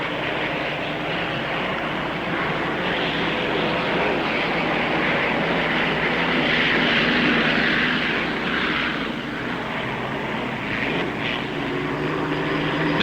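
Nitrogen hydroplane racing boats roar across the starting line at the 1960 Harmsworth Grand Prix Gold Cup, a loud continuous engine drone that swells and eases slightly, with no voices.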